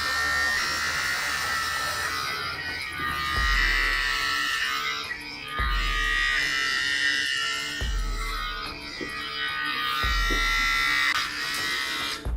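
Electric clipper with no guard shaving a head close to the mic, a steady buzzing drone whose pitch and loudness rise and fall as the blade passes over the scalp in repeated strokes.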